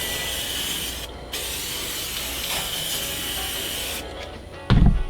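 Blue spray paint hisses from an aerosol can onto a rolling tray in long, steady, close bursts with a short pause, then a brief knock or thump at the end.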